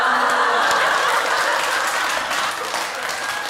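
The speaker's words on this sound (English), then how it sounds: "clap it up for me" Applause rings out steadily for about three and a half seconds, a dense patter of clapping with a faint bit of crowd laughter, holding loud and then easing slightly near the end.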